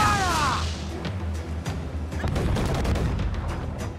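Ship cannons firing in Assassin's Creed IV Black Flag, loud booming blasts in a rapid barrage, with repeated sharp reports and crashing debris close by over a rumbling naval battle.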